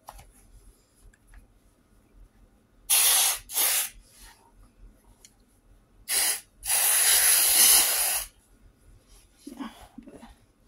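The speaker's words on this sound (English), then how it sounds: "And then I also like to use some spray too." Cheap body spray misted from an aerosol can: two short hissing bursts, then a brief one and a longer sustained spray of about two seconds, close and loud against a quiet room with faint rustling.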